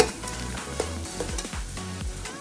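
Chopped onions sizzle and fry in oil inside a pressure cooker over moderate heat, a steady close crackle with occasional stirring scrapes, no voices.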